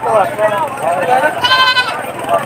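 Goats bleat in wavering, nasal cries over a busy background of voices and crowd noise at a livestock market in Padre Garcia, Batangas, Philippines, loud and close.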